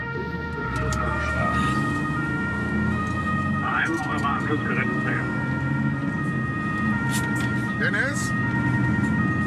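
A German ambulance runs its two-tone Martinshorn siren on an emergency drive, loud and continuous inside the vehicle with engine rumble beneath, while crew members talk over it.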